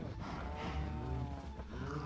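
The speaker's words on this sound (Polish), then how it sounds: "Odsuńcie się, krowki." Cows mooing in the video game Minecraft: several overlapping low, drawn-out moos sound steadily close by, with no talk over them.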